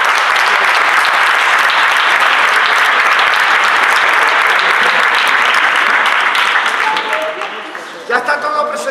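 Hearty congregation applause at a church service rolls on loudly for about seven seconds, then thins out and stops as a few voices come through.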